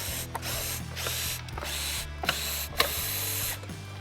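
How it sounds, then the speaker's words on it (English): A number 2 Phillips screwdriver unscrewing the bottom plate of a Lowrance Recon trolling motor foot pedal, giving repeated close ratcheting clicks in a steady rhythm against a low mechanical hum, with no talking. "Next, we're going to remove our bottom plate with our number 2 Phillips screwdriver."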